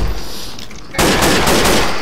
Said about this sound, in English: I put my rifle in semi-auto mode to save ammo